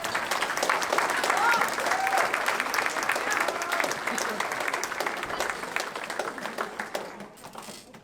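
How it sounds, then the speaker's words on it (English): Students at a school jazz night applaud their parents, a full room of clapping that stays steady and fairly distant before fading out at the end. "Students, give your parents a round of applause."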